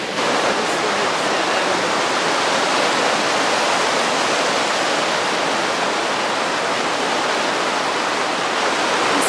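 Floodwater roars through a canal lock as churning white water, a dense, loud, unbroken rush that stays steady and close throughout, with no voices.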